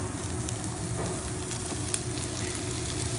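Farmed redfish searing in a hot, smoking skillet, a steady close sizzle and crackle of frying that runs unbroken throughout with no talk.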